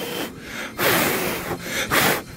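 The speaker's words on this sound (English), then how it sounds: "Blow off the track a little bit." Short puffs of air blow across HO scale model train track to clear debris, three or four close whooshing bursts with brief gaps between them.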